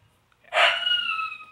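A dog in a room gives one sharp, close vocal burst after near silence, which fades into a thin, lingering whine.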